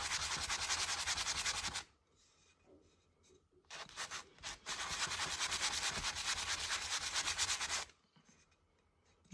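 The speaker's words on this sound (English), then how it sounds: "You can just sand the whole thing at once if you want" Hand sanding of a dried acrylic pour painting, rhythmic scratchy rubbing strokes in two long close bursts separated by a short pause with light handling noise, no talk.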